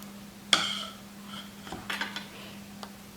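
A palette knife slides under the disc on top of a buttercream-frosted cake: one sharp metallic click, then soft, faint scraping and light clinks in a quiet room.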